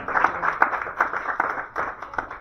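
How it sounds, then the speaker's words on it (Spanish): Church congregation claps during a sermon, a steady patter of many hands with regular sharp beats, moderately close and sustained with little talking. "Denle un aplauso al Señor, hermano"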